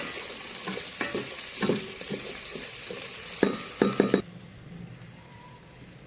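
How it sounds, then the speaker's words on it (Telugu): Whole garam masala, onions, green chillies and mint fry in a pot for egg biryani, with a hissing sizzle under repeated scraping and stirring knocks, then the stirring stops and a quieter sizzle continues alone. "ఇప్పుడు వేసిన హోల్ గరం మసాలా, ఆనియన్స్, మిర్చి అని పుదీనా అంతా మనం మంచిగా ఫ్రై చేసుకోవాలి గైస్."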